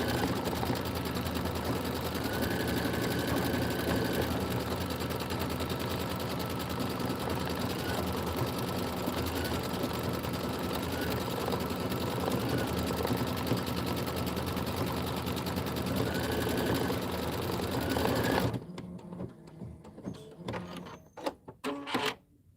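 An embroidery machine stitches a floral pillow design with a fast, steady mechanical whir and rapid needle clatter for a long stretch, then stops abruptly, leaving faint handling knocks.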